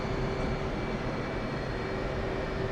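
An F/A-18C jet taxiing in the DCS flight simulator gives off a steady, loud engine roar with a constant whine held throughout, unbroken and without speech.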